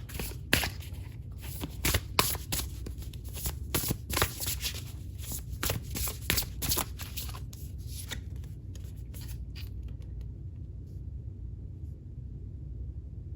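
Tarot cards being shuffled, a long run of crisp riffling and flicking bursts that are loud and busy at first, then thin out into sparse, softer card slides over a low steady room hum, with no voices.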